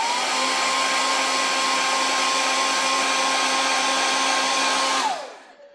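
Heat gun blowing steadily while heat-setting airbrushed paint on a jerkbait lure, a loud continuous whooshing whine with a fixed tone that winds down as it switches off near the end.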